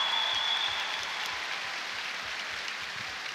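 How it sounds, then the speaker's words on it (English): At an indoor pool hosting a British swimming championship, the crowd gives a gold medallist steady, rain-like applause that holds at a moderate, even level for the whole stretch. "Give him a round of applause."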